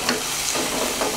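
A spoon stirs garam masala into sautéed tomato, onion and spices for dal dhokli, giving a close, brief sizzle with soft scraping against the pan.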